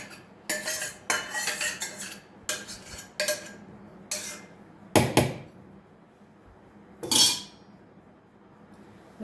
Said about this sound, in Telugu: ఇప్పుడు మనము ఈ కాయలు కూడా వేసేసుకుందాం దీంతోపాటు ఇట్లే గ్రైండ్ చేసేసుకుందాం